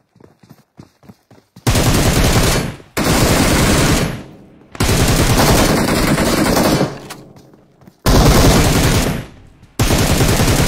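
Rapid automatic gunfire in the battle royale game PUBG Mobile, loud and close, coming in several long sustained bursts broken by short pauses, with a few scattered single shots at the start.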